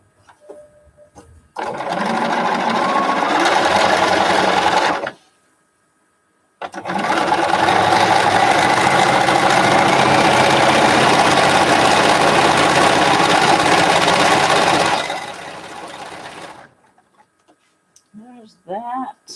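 A sewing machine stitches sashing onto quilt strips in two long, steady runs of whirring, close and loud, with a short pause between them and a few soft handling sounds at the end.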